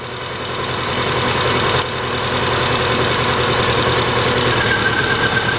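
A 2000 Subaru Impreza Outback 2.2 engine with a misfire runs rough at idle after one cylinder is unplugged, giving a steady, loud, knocking low rumble with one brief click near the start.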